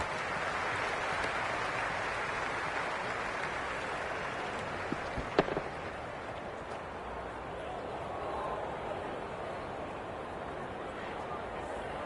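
Steady hiss of rain falling on a cricket ground in the Cricket 26 video game, a continuous broad wash of sound with faint crowd noise beneath and a brief click midway.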